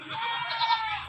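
A goat bleats in one sustained, wavering cry at a livestock market, close and fairly loud with a slight swell near the end.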